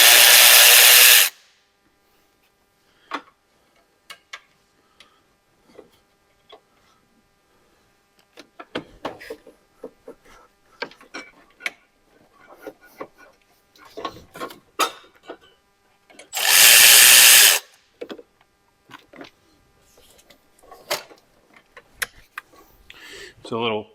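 Brief loud power tool bursts from an impact driver removing a small 8mm bolt on the intercooler pipe of a Ford E-Series van, two short whirs separated by talk, clicks and tool clatter.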